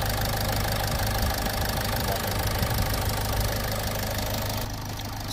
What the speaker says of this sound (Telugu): ఆఫ్టర్ ఇంజక్షన్ కూడా ఒకసారి ఇంజన్ నోటీస్ ఇంజన్ నాయిస్ అయితే నోటీస్ చేయండి